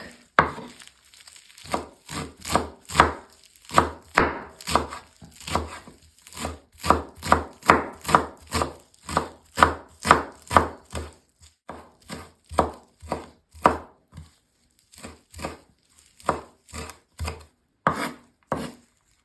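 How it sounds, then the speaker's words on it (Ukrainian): Rapid, steady knife chopping of fresh herbs such as parsley, dill and basil on a wooden board, dozens of crisp close strikes in quick bursts with brief pauses, no voices. "Беремо зелень і дрібненько нарізаємо."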